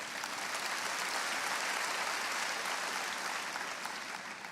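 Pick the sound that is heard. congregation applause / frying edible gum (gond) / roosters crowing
congregation applause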